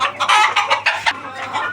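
Malaysian Serama chickens, a tiny bantam breed, cluck loudly and close by in a quick run of sharp repeated calls, with no talk over them.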